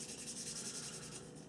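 Brief fine sanding stick rubbed across a small glued underside, a soft, close, rhythmic scratching at low level.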